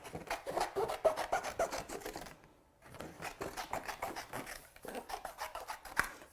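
Paper or card being trimmed down by hand to fit a cutting die in a craft studio, giving close, steady rasping cuts in bursts with a brief pause partway through.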